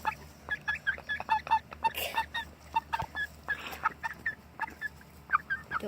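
Chickens cluck repeatedly in short, rhythmic bursts close by, a steady stream of fowl calls with a few louder squawks, in a yard where a dog and chickens live together.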